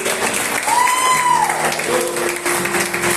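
A church congregation claps and cheers together during a service, steady applause blending with scattered voices and a sustained musical tone.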